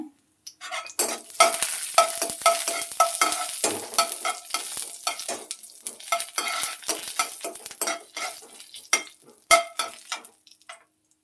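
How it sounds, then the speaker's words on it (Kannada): Cumin seeds sizzle in coconut oil in a pan, crackling and popping in irregular bursts mixed with stirring scrapes, close and fairly loud, with no talk. "ಒಂದು ಬಾಣಲಿ ತಗೊಂಡಿದ್ದೀನಿ ಅದಕ್ಕೆ ಸ್ವಲ್ಪ ತೆಂಗಿನೆಣ್ಣೆ ಹಾಕ್ಕೊಳ್ತೀನಿ ಈ ಜೀರಿಗೆ ಹಾಕ್ಕೊಳ್ತೀನಿ"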